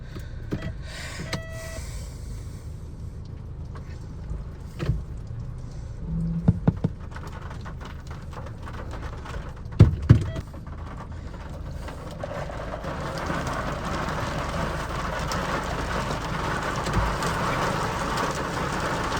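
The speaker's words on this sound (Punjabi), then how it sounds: "ਚਲੋ ਆ ਗਈ ਬਰਸਾਤ ਦੁਬਾਰਾ ਆ ਗਈ" Rain falls again on a Scorpio SUV during heavy flooding, heard from inside the vehicle. A soft patter swells into a denser, steadier drumming in the second half, with a few sharp knocks along the way.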